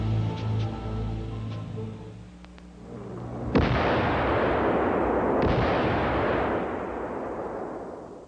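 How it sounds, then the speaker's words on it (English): C4 explosive with petrol detonating to destroy a vehicle depot: after a low rumbling intro, one sharp loud blast erupts, then a long roaring, crackling rumble of fire and debris that slowly fades. "Using C4 explosives with petrol, this Jaeger sets up a configuration used in destroying a vehicle depot."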